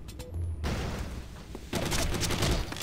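A video-game battle erupts with a burst of rapid gunfire followed by a heavy boom like a grenade, then more dense shooting, all fairly faint and close-mixed with no speech.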